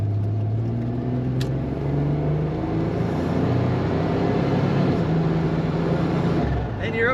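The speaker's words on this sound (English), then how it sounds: "Hear that little whoop whoop as you let off the throttle because the turbo is doing some work" A 1991 GMC Syclone turbocharged pickup accelerating, a steady close engine drone rising in pitch through the gears with a turbo whoosh on lift-off, under someone talking throughout.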